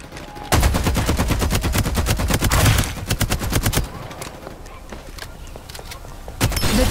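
Rapid automatic gunfire in the battle-royale video game Farlight 84, dense loud bursts of repeated shots for about three seconds, then a quieter stretch of game ambience before another burst near the end.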